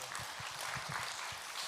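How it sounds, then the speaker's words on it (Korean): Applause from a church congregation at an early-morning Bible reading festival, a sustained hiss of clapping with low thumping beats, moderately distant and fairly quiet throughout. "박수를 돌립니다."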